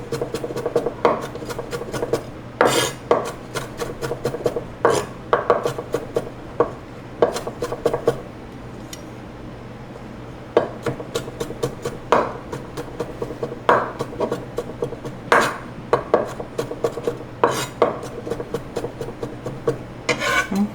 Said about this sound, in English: I'm just going to chop it up fine